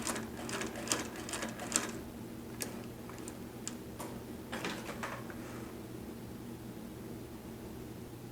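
A Consew 227R-2 triple feed walking foot industrial sewing machine sews back tacks in short bursts of rapid mechanical ticking, close and fairly quiet, with brief pauses between stitching runs and a faint steady hum underneath.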